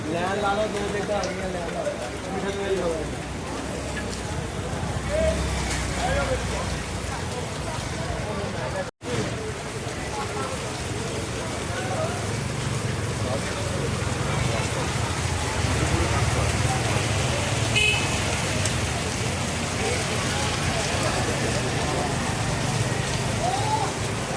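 Steady, dense heavy rain pours down with a constant hiss and patter, loud and close, heard from under a plaza in Lahore, while voices talk faintly underneath.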